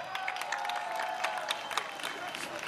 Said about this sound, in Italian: Facciamo un grande applauso